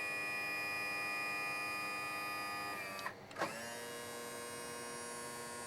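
The tilt motor on a Mercury 250 Pro XS outboard whines in a faint steady electric hum with tonal overtones, dipping and shifting pitch briefly as it stops and restarts.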